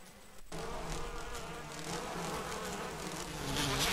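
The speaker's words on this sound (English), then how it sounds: "Go away, you stupid bloody bees." A swarm of bees around a beehive in the Resident Evil Remake game buzzes loud and close, a dense continuous drone that starts abruptly and swells toward the end, with no talking.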